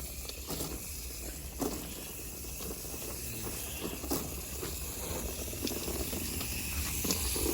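A garden hose spray rinses a central AC condenser coil outdoors, making a steady hiss of water that runs on unbroken at moderate distance.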